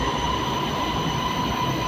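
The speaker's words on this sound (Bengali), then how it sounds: "হ্যাঁ, অলরেডি ট্রেন চলে আসছে।" A train pulls into a Malaysian railway station, a loud, steady rumble carrying a high, sustained wheel squeal and metallic ringing tones, with no voices.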